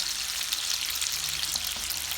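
Pieces of kebab fry in hot oil, giving a steady, dense, crackling sizzle that runs continuously and evenly at close range, with no talking.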